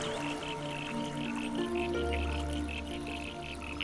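Frogs croak in a damp coastal forest near water, a repeated rhythmic chorus of calls over a steady background drone, with no voices.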